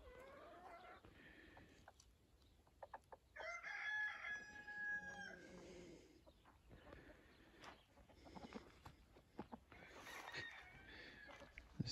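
Chickens outdoors in winter sun, with a rooster crowing loudly in the middle and hens clucking and murmuring around it, moderately close, among faint outdoor background noise.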